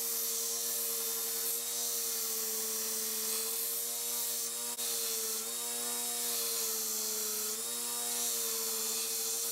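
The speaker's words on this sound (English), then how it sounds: "Now I'm grinding the wood down to the tang." Power grinder working wood down to the tang of a bushcraft knife made from a lawnmower blade, a steady loud whirring drone with slight pitch wobbles as pressure shifts, continuous throughout with no talking.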